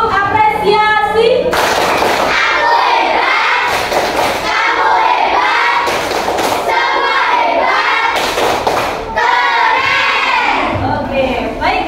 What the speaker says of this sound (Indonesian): kita beri apresiasi dengan tepuk apresiasi